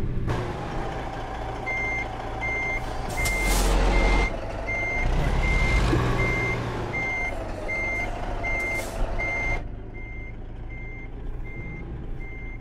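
Reversing alarm of a truck in American Truck Simulator beeps in a steady, evenly spaced series over the rumble of a diesel engine, with a brief hiss of air brakes before the beeping stops.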